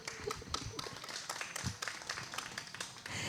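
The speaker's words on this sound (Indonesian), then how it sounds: "Tepuk tangan dong teman-teman." Audience applause at an RW 03 neighborhood community event in Kelurahan Kayu Putih, a steady patter of many hands clapping at moderate volume with scattered sharper claps throughout.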